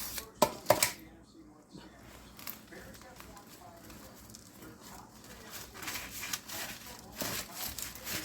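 Knife sawing through a loaf of homemade bread, a few sharp crunchy strokes at the start followed by softer scraping cuts, with a voice talking nearby.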